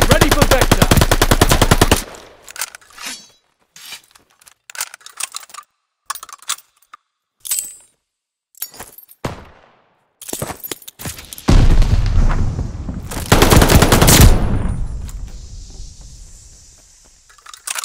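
A machine-gun strafing run in a video game, with a loud dense burst of rapid fire at the start, scattered shorter bursts and clicks, then heavy sustained fire and a fading rumble.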